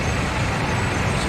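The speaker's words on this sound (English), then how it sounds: "Standing in virtual Times Square, you can hear cars and people coming and going from every angle and every distance" Dense city street traffic in virtual Times Square, New York, in the Spider-Man Miles Morales game: a steady loud wash of truck and bus engines with air-brake hiss, heard without pauses.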